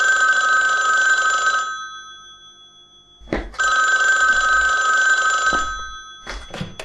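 A telephone bell rings in two long bursts separated by a short pause, loud and close, followed by a faint clatter as the ringing cuts off.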